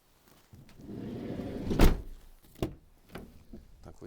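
Sliding side door of a 2013 Renault Trafic long-wheelbase van with replaced rollers, pulled open by one hand: a rolling rumble builds to a loud clunk as it latches, followed by a few lighter knocks.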